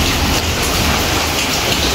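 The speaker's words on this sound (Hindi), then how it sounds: "आज में बारिश हो रही है बहुत ज़्यादा तेज़ बारिश" Very heavy rain pouring down in a dense, continuous roar, loud and close, with no voices over it.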